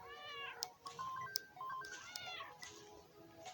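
Several cartoonish cat meows from the Nintendo Switch game Kitten Island, bright and close, spaced over a few seconds and mixed with short electronic beeping tones.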